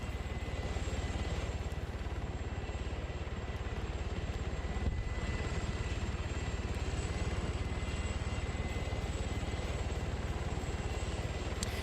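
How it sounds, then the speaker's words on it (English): Helicopter flying low and slow in a military video game battle, a continuous, steady rotor and engine drone with a fast pulsing beat, loud and close, holding constant with no talk. "Maybe the 50 cal will be able to snipe the helicopter out because it's flying low and slow here."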